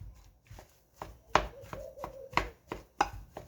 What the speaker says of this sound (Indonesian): aku mulai menumbuk kentangnya sebelum aku bulat-bulat